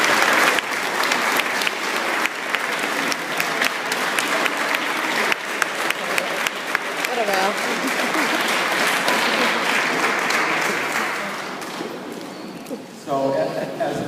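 An audience at a graduation ceremony applauds parents and grandparents, a loud, sustained round of clapping from a large crowd that runs for over ten seconds before tapering off.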